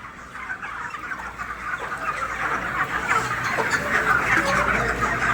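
Chickens at a chicken shop on FCI Godown Road in Hyderabad cluck busily and continuously, with overlapping calls that grow slightly louder over a low background rumble.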